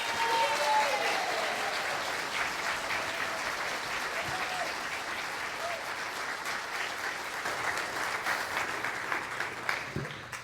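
A congregation at the Center for Spiritual Living in Santa Rosa applauds steadily to welcome Rev. Brian Akers, a sustained wash of clapping filling the room and tapering slightly toward the end.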